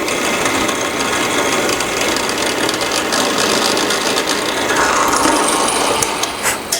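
A drill press runs steadily in a workshop, its close motor whir and dense mechanical rattle continuous and loud throughout, with a few sharper ticks near the end.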